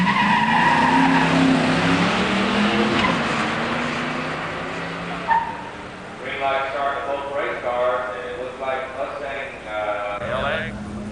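An '87 Mustang LX 302 HO five-speed and a '77 Trans Am 400 automatic launch at a drag strip with engines revving and tires squealing. Engine noise fades as the cars pull away while an announcer talks.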